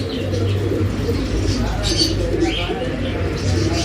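Pigeons coo softly in a low, steady murmur at a pet shop, with faint chirps rising above it and someone talking over the birds.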